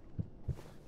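Two soft, low thumps of a heartbeat in Roblox Backrooms, spaced about a third of a second apart, muffled and faint against a quiet background.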